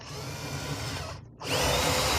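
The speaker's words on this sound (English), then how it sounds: "Drill my hole through, I can run my wires." Power drill boring a hole through a boat hull for underwater light wiring: a steady, close whine for over a second, a brief dip as the bit pauses, then a louder sustained grind.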